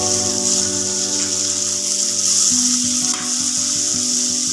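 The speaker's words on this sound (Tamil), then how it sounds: "இப்போ இந்த ஸ்டேஜில் நம்ம கட் பண்ணி வச்சுருக்க டொமேட்டோஸ் ஆட் பண்ணிடலாம்" Chopped tomatoes frying in a pan for Indian-style Chinese veg noodles, a loud steady sizzle with crackling spatter, close up, with a faint tonal hum underneath and no talking.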